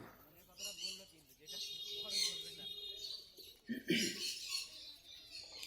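Owl finches chirp at a bird market, giving faint, quick high tweets among crowd murmur and someone talking nearby.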